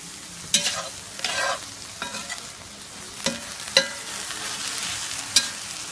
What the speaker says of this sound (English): Give the onions and peppers a stir.